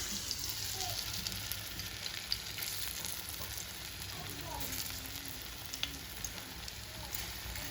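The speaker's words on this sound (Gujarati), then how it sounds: "આમાં હું તેલ બેહાડી દીધી. આ જરીક તળી દઉં" Patra pieces frying in oil for a vegetable dish, making a soft but steady crackling sizzle with light stirring, heard alone without talk.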